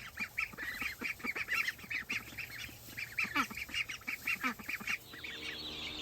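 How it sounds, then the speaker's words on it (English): Several ducks being moved into an enclosure quack and honk repeatedly in overlapping bursts, close by and fairly loud, with other fowl calling faintly in the background. "Now we have 8 ducks in here"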